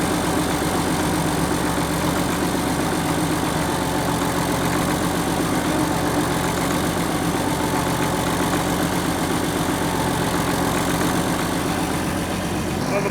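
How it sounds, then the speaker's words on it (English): A Caterpillar D6C bulldozer's diesel engine idles after a cold start, following a new head, turbo and major engine work, with a small fuel leak at the sediment bowl. The idle is a loud, steady, continuous rumble throughout. "Motor-wise, I think it sounds pretty good."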